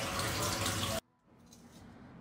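Tap water runs loudly for about a second while potatoes are washed, then cuts off abruptly, leaving a quiet room with faint drips.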